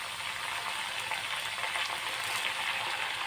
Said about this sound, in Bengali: এই যে আমি সর্ষে দিয়ে দিলাম, কালো সর্ষে অবশ্যই দিতে হবে ফোড়নে, আর দিতে হবে এই কারি পাতা।